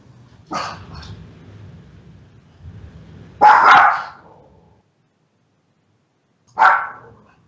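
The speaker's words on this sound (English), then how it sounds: "Got some dog action." A dog barks nearby in three separate loud bursts spaced a few seconds apart, with quiet gaps between, heard in the background of a Magic: The Gathering match broadcast.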